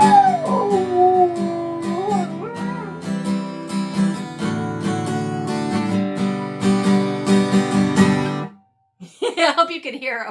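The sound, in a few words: dog howling along to guitar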